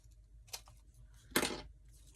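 Scissors snip off the excess from a glued fabric craft rose, two short crisp cuts, the second louder and longer, in a quiet room.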